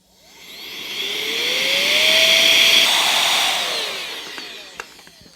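An electric air duster spins up with a rising whine, then blows a steady loud airy rush with a high tonal whistle, and winds down before a couple of sharp clicks.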